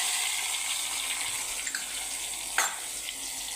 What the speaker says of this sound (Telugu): ఇందులోకి జీలకర్ర, ఆవాలు వేసేసుకుందాం. అలానే ఉల్లిపాయ ముక్కలు, వెల్లుల్లి రెబ్బలు కూడా వేసుకుందాము